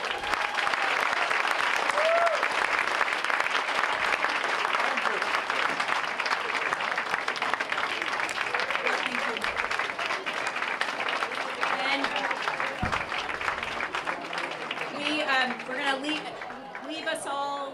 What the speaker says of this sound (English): So big round of applause to you.